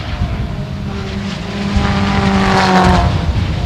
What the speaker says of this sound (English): Cars coming down the front straight there.